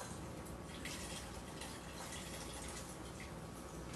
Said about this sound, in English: I'm going to pour this liquid through it.